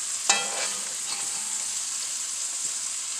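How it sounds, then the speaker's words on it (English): Green beans and potatoes cooking with bacon sizzle steadily in a pan, with a sharp stirring clatter near the start and softer scrapes after. The sound is close and continuous, with no talking. "we're going to continue to cook it, so we're going to stir that up"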